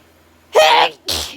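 Two sharp sneezes from an autumn allergy sufferer, close and loud, the first long and forceful and the second shorter, with only quiet room noise around them.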